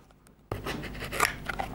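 Scissors snip open a plastic Scooby-Doo blind bag, close and crisp, with a burst of rustling and cutting noise after a short silence, ending on a louder thump.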